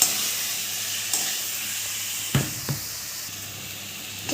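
Spice paste frying in a pan for a jackfruit curry, a soft steady sizzle and hiss with a couple of sharp clicks from the spoon, close and fairly quiet, with no talking.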